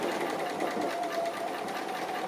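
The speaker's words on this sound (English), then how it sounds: "And by doing the stitching, because I'm using a grey thread, that will help emphasize the outlines and things." A sewing machine runs continuously, stitching an appliqué with grey thread, a fast steady whirring rattle close by, unbroken for the whole stretch with no talking.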